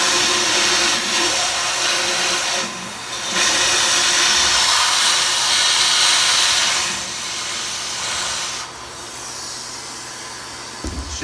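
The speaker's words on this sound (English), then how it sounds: "Now that I've finished vacuuming" A vacuum drawing ash out of the firebox of a Regency i2400 wood stove, a steady broadband hiss and drone that drops briefly and shifts as the nozzle moves.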